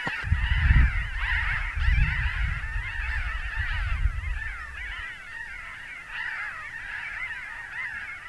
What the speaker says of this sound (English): got a bunch of birds flying overhead